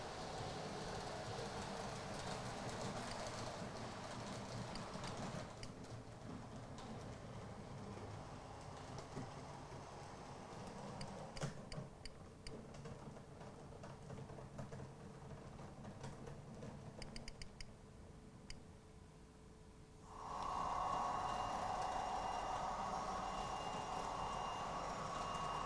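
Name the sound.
model railway 3-car DMU train running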